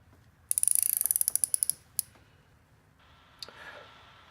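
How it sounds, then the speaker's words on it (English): Ratchet on an extension snugging a spark plug into a 2004 Saab 9-3: a quick run of about a dozen sharp, close clicks, then a few isolated clicks and a soft scrape. "I'm just going to take my ratchet, put that on the extension, and then just snug it up"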